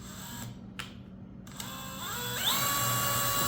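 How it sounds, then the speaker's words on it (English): Power drill spinning up on a door slab job, a faint mechanical click then a rising whine that climbs in pitch and holds, close and steady. "Drill with a little bit more power."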